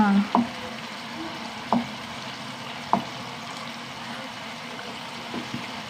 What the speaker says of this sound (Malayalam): വറുക്കട്ടെ വറുത്തെടുക്കട്ടെ